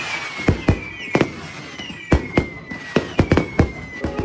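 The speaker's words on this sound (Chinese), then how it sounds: "在等漫天的烟花放起来的时候" Fireworks going off as an audiobook sound effect: a rapid series of sharp cracks and pops in irregular bursts, with a faint whistling tone running underneath.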